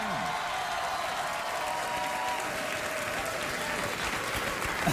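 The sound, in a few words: talk show studio audience applause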